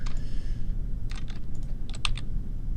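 Computer keyboard and mouse clicks while modelling, with a soft hum of typing followed by several sharp, separate clicks including quick double clicks, close and fairly light.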